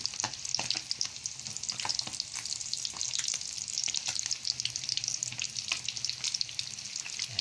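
Dalagang bukid and boneless dried milkfish fry in a pan of hot oil, giving a steady, close sizzle with dense crackling and spitting that carries on without pause and without any talk.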